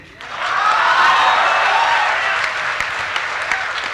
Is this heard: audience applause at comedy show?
yes